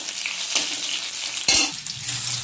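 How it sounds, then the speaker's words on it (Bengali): Onions fry in a home kitchen pan toward light brown, a steady crackling sizzle with occasional louder stirring scrapes and clatters, close and without speech. "এবার বন্ধুরা পেঁয়াজটা হালকা বাদামি করে ভেজে নেব।"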